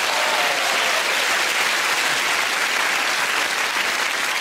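Loud, dense studio audience applause on the comedy quiz show QI, a continuous roar of many hands clapping at once, sustained at full strength from start to finish.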